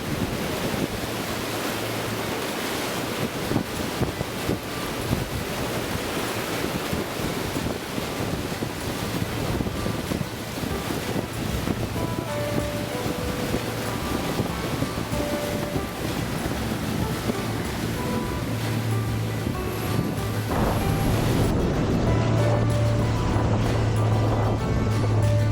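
Roaring Class 5 rapids of the Niagara River rush through the deep gorge at Devil's Hole, with steady loud broadband water noise and gusting wind buffeting the microphone throughout, with no voices.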